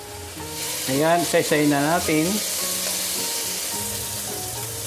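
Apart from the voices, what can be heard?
stirring pork belly frying in a pan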